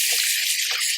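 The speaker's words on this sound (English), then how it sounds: "just going to wash my hands" Tap water runs steadily in a kitchen as hands are washed under it, a close, loud, continuous hiss with faint splashing shifts.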